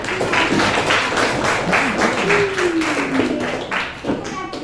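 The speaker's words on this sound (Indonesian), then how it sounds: "Tepuk tangan buat Ines" Schoolchildren in a classroom clap together for a classmate who has just sung, a loud, fairly rhythmic burst of many hands with a few voices calling out over it.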